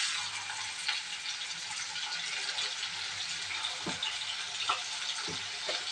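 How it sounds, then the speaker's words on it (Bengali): Dried fish (shutki) fries in lightly salted oil, giving a continuous hissing sizzle with occasional soft pops and clicks, steady and moderately close, with no talking. "শুটকি মাছটা আমি ভেজে নিয়ে নেব"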